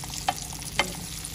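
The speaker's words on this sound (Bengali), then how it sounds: "ইলিশ মাছ ভাজা হয়ে গেছে, একদম সুন্দর করে ভাজি করছি।" Salted hilsa fish frying in oil in a pan, a soft, quiet sizzle with two brief scraping clicks from a utensil being turned, and no talk.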